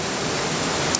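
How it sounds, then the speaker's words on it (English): Small waterfalls pouring down near a viaduct bridge, a steady broadband rush of falling water with no break, fairly loud and alone. "of these little waterfalls coming down here"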